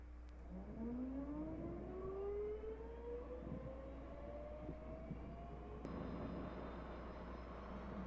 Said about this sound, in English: Go ahead and fire engine number 1